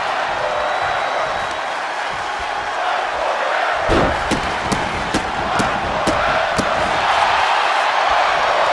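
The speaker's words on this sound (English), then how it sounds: "For those who couldn't hear the crowd, they are chanting "Fight Forever,"" A wrestling-match crowd chants "Fight Forever" as a loud, steady roar of many voices fills the arena; sharp rhythmic slams or claps cut through from midway on.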